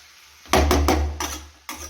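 A spatula stirs methi and potato vegetable in a pan, giving a few distinct scraping clatters, loud and close, separated by short pauses, with no talking.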